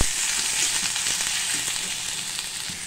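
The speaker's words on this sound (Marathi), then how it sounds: "त्या तेलामध्ये आता आपल्याला कांदा भाजून घ्यायचा आहे." Onion frying in hot oil for a spicy Satara-style mutton thali, a steady close sizzle with a few soft stirring clicks, no voices.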